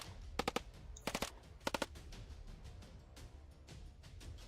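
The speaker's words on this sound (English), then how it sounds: "gunfire echoed from every direction" Machine-gun fire in the video game Snowbreak: Containment Zone, three short rapid bursts of close, sharp automatic shots separated by brief gaps, over a low rumbling game ambience.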